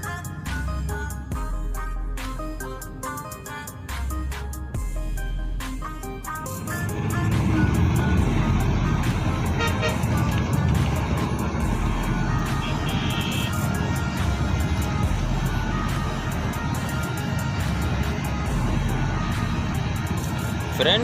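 A car driving through Karachi, heard from inside the cabin: a steady, loud low road-and-engine rumble that swells noticeably after the first few seconds and then holds constant, with faint background voices.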